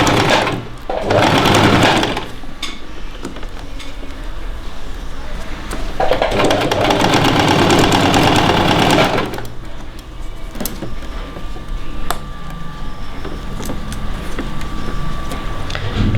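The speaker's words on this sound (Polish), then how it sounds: "Tu, gdzie mamy materiał złożony na pół, stąd zaczynamy szycie maseczki." Sewing machine stitching a fabric face mask, with loud bursts of rapid mechanical whirring separated by quieter pauses.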